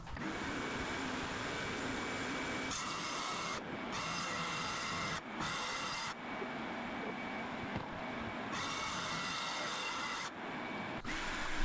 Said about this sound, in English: The circular saw with a masonry cutoff blade.